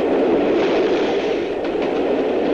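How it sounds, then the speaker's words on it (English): A train passes an automatic half barrier level crossing with a steady, dense rumble and roar that holds at a constant, fairly loud level throughout, with no voices. "Within seconds, the train will pass."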